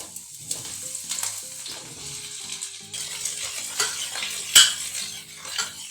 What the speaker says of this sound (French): je les fais revenir dans de l'huile d'olive.